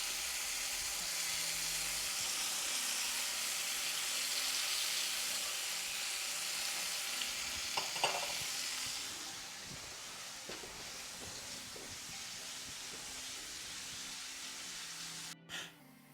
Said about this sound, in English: Fried tomatoes and eggplant.